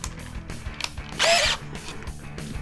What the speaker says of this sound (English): I'm gonna have to take these screws out